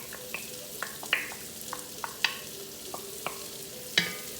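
Celery added to a frying pan for shepherd's pie, with a steady close sizzle and repeated sharp clicks of a utensil stirring against the pan, and no talk.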